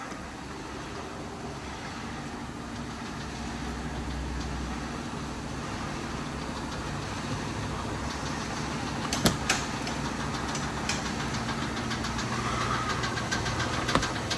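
A repaired Volante car engine runs steadily at close range, a continuous rumbling drone with a few sharp clicks partway through and no talking.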